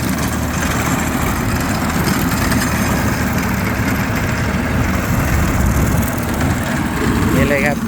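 An old Kubota L2000 three-cylinder diesel tractor fitted with a mower idles steadily with a low, even chugging rumble, loud and close, continuing throughout.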